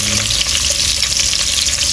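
Onions dropped into hot oil in a pot for bhuna khichuri, a loud, close, continuous hiss and crackle with no talking.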